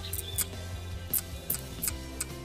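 A series of sharp, crisp clicks and snaps, irregularly spaced, as hand tile nippers bite small pieces off mosaic tile, close by.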